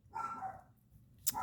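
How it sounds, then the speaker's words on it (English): A dog indoors gives two short excited barks, fairly faint, with a brief sharp click between them and no talk. "my dog is barking and is excited about math"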